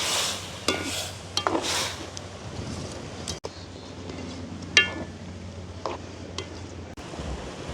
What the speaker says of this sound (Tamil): ரெண்டாம் தரம் புளிஞ்செடுத்த தேங்காய் பாலை சேர்த்துக்கொள்கிறேன் வந்து அப்படியே கலந்து விடுவோம்